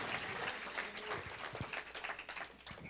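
A church congregation applauds the Lord after worship, a dense, steady crackle of many hands clapping that fills the room and carries on with little change from start to finish.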